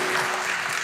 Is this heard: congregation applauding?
yes